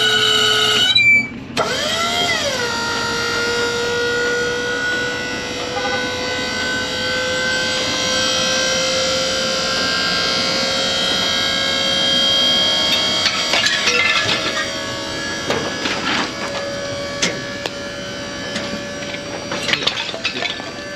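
A hydraulic dump trailer bed raises to dump its load, a steady droning whine with a rising pitch at the start that holds for a long stretch before clanks and rattles near the end.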